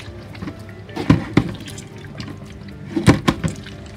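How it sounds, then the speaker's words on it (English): Water is added to soursop pulp to make juice, with close splashing and sloshing in two short bursts around a quieter trickle. "So I'm adding the water to get more juice out of the soursop."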